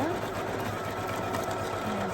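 A Poolin EOC06 embroidery machine stitches out a design in orange thread, a steady, dense mechanical whir that runs unbroken and fairly loud throughout.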